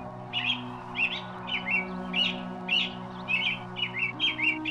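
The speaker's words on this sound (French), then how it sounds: "le rouge-gorge l'accompagnait pour lui chanter quelques belles sérénades" A robin sings a series of short, bright chirping phrases at a moderate distance, repeated in an even rhythm over a low, steady background hum.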